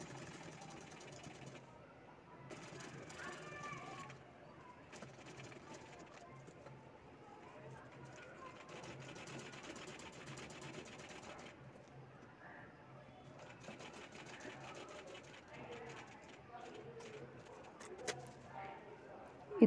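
Sewing machine stitching a folded 1.5-inch fabric piping strip along the side of a handmade bag, its motor running in a steady stitching rhythm with short pauses across the clip, moderately loud and close.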